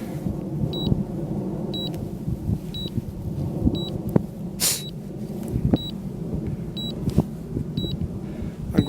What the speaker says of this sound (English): And this is beeping.